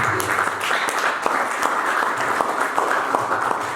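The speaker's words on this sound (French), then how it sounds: "Acclame Jésus, acclame le Seigneur." A church congregation claps steadily and densely throughout, a sustained wash of applause with no speech over it.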